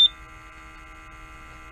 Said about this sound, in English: The Eagle 2 should now indicate fail low flow level within a few seconds.